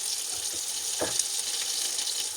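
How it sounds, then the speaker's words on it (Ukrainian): Carp sizzling steadily in a frying pan, a continuous close hiss with a brief louder crackle partway through, no voices. "Так що будемо смажити далі."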